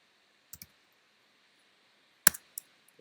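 Sparse clicks from keys on a computer keyboard, a few isolated taps followed by a sharper cluster and two faint final clicks, close and otherwise quiet against a low steady hum.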